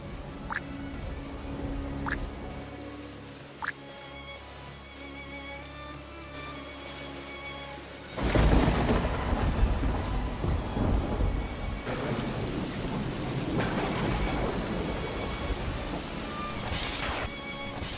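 Rain pours steadily while thunder rumbles, then a loud crack bursts into a heavy, rolling roar of thunder over continuing downpour.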